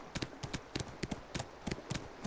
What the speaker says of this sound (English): You can see my horse has finally run out of stamina, so he's down to a slow trot.